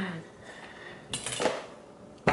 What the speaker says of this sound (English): Somehow the foil pan still moved.